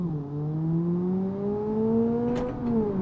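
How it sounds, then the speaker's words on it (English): A high-strung car engine in the BeamNG driving game revs smoothly upward, its tone climbing steadily before a brief dip and recovery, loud and close with no talk. "it definitely is a pretty high-strung engine"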